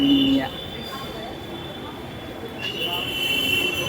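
Metro train at a Delhi metro station: a steady mechanical rumble with a thin, high-pitched whine running through it, heard up close in a noisy station.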